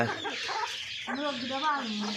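Farmyard roosters and hens cluck nearby in a village yard, a few throaty, rhythmic calls close by, with people talking in between and over them.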